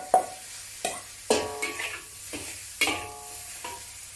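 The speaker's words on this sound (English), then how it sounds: "return the vegetables to the wok." Vegetables and mushrooms stir-fry in a wok over a low sizzle, while a spatula scrapes and tosses them in about six separate strokes, close and clear.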